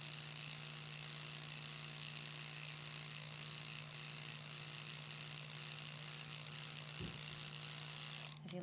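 A permanent makeup machine runs continuously with a steady, faint buzzing grind and an even mechanical hum, broken by a single brief clunk near the end.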